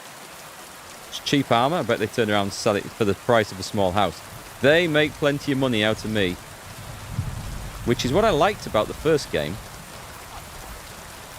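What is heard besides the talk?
rain noise, from the video game Kingdom Come Deliverance 2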